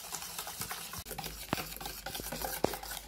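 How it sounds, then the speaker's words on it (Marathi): Cake batter of sugar and oil is whisked by hand for a stovetop sponge cake. It makes a quiet, uneven scraping and stirring sound with occasional sharp clinks of the utensil against the bowl. No voice is heard. "हे असं सगळं साहित्य साखर तेल असं चांगलं फेटून घेतले"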